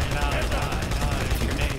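Sustained turret gunfire in the Halo 2 video game, a dense continuous rattle of rapid shots running the whole moment, loud and steady with game noise layered underneath.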